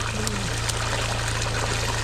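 Strong underground water flowing on a farm where sand has built up, a steady close trickling and gurgling with a constant low hum beneath it.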